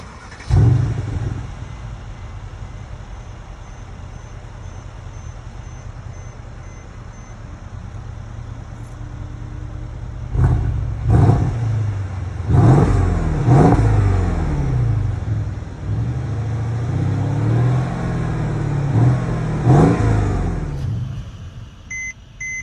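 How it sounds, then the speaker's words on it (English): A 2017 Mercedes-Benz CLS550 with a 4.7-liter bi-turbo V8 idles steadily at close range, then several sharp engine bursts and revs rise over the low rumble while electronic warning beeps chime in the background. "let's go ahead and push the engine stop start button and start the"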